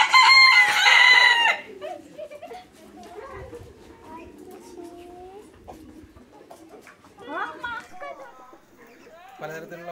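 At a farm house in the Nelliyampathy forest, a rooster crows loudly and close at the start, followed by scattered chicken clucks and other bird calls while people talk nearby.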